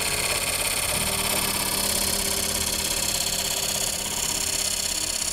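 A wood lathe spins a bowl, a small breakfast or serving bowl, while a skew chisel rounds it off, giving a loud, continuous whirring and scraping hiss at close range with no talk.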